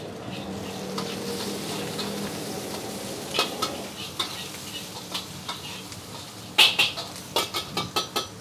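Butter squid (cumi mentega) stir-fried in a pan at a street food stall: a steady sizzle with sharp scraping and clanking strokes of a spatula that grow more frequent and louder toward the end.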